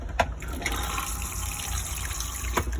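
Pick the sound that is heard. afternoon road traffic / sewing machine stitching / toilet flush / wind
toilet flush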